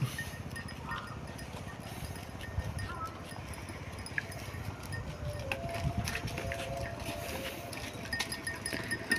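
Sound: herd of goats walking

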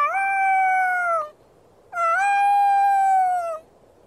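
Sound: puppy howling at the moon in a video game

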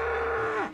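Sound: cow mooing

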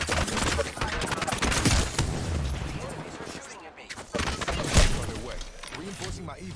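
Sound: gunfire in the video game Apex Legends

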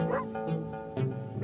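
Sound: dog barking

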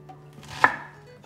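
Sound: chopping food with a knife

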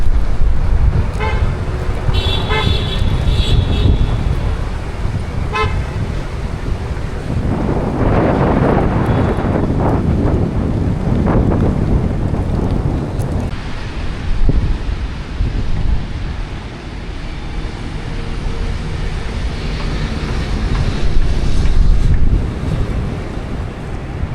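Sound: strong wind outdoors

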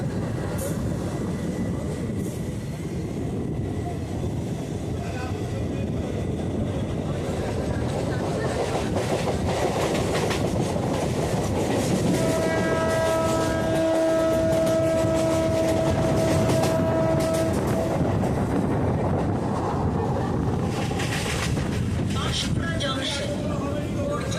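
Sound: Panskura local train running from Howrah to Uluberia

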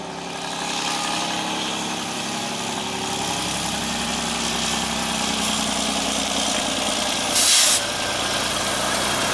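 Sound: Freightliner truck engine

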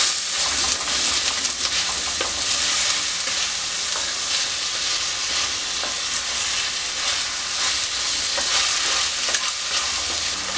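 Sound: potatoes and prawns being sautéed and stirred in a pan

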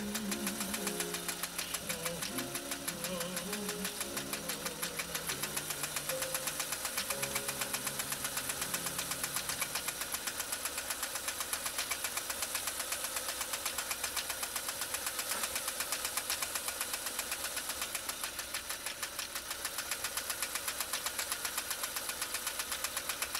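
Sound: Pfaff 339 sewing machine stitching cam C stitch

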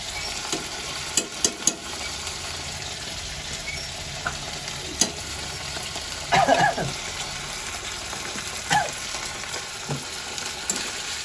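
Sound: chili paste frying and being stirred in a pan

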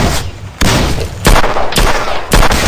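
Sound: gunfire headshot in Sierra 7 tactical shooter video game

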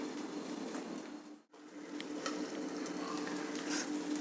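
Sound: uttapam frying in oil in a covered pan

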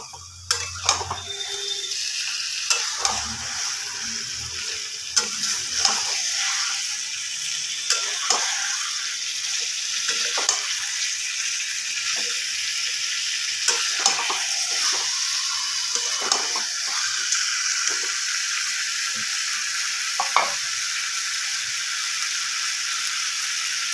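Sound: stirring and frying chicken kosha with cashews and black pepper

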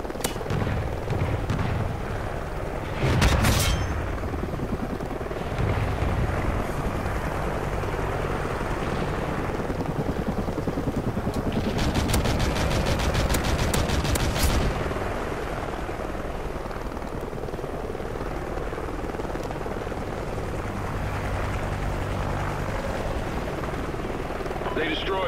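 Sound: helicopter flying in video game Call of Duty Ghosts

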